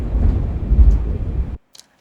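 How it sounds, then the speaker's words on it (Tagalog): A single roll of thunder, loud and close, rumbling deeply for about a second and a half before cutting off into near silence with a couple of faint clicks. "Kumukulog."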